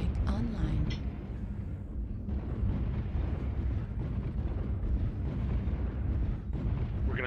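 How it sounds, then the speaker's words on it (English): Artillery strike explosions in the MechWarrior Online game roll in as deep, rumbling booms, with a heavy low-end blast near the start and a continuous thundering wash that carries on to the end. "Artillery strike online."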